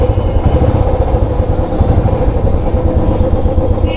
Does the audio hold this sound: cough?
no